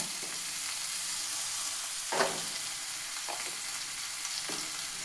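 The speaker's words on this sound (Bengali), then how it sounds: "ভালোভাবে কষিয়ে নেব" Chicken sizzling with garlic, turmeric and ginger-green chili paste makes a constant close frying hiss, broken by a few soft scraping stirs of the pan, with no voices.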